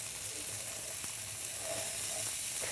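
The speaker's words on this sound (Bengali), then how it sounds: "এবারে আমরা একটু চালটাকে ভেজে নেব।" Washed rice frying in about two tablespoons of mustard oil for chicken achari khichuri gives off a faint, steady sizzle throughout, with no talk.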